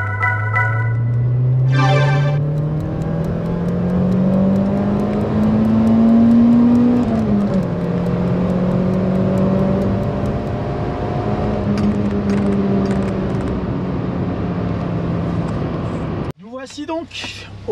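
A 1996 Peugeot 106 GTI 1.6 S16 drives on an open road, its engine note rising steadily as it accelerates through the gears, loud and close throughout, with a brief voice at the very end.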